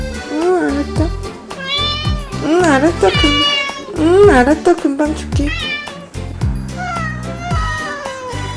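A domestic cat meows repeatedly and loudly in a home, its drawn-out, pitch-bending cries mixing with a person speaking to it in between and over the calls.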